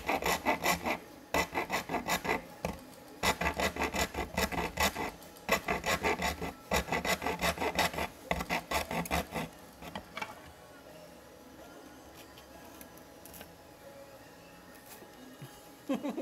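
A rasping, scraping cut trims a helmet along a marked line in fast rhythmic strokes for about ten seconds, then stops. Afterwards only faint room noise and a few small knocks remain.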